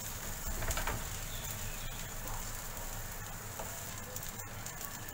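Mysore masala dosa frying on an open pan without a lid gives a steady, close sizzle that holds broad and even for the whole stretch, with no talking.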